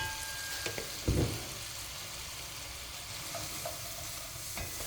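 Minced meat with flour being fried in a pan for a yogurt soup, a quiet steady sizzle broken by a few scraping stirs of a spoon, one louder knock near the start, no talking.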